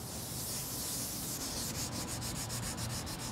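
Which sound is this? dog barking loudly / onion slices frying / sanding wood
sanding wood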